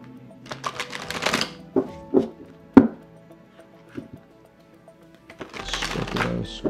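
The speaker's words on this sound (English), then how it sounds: "I'm going to be shuffling the deck for you right now." A tarot card deck is shuffled by hand, giving crisp riffling bursts, single card slaps and soft sliding rustles. The sounds come in irregular clusters, close up and without talk.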